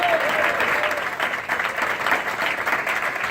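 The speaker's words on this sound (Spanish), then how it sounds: "Dale fuerte esas palmas al Señor" Church congregation clapping loudly and continuously during a sermon, a dense, close wash of palms with slight surges, no talk over it.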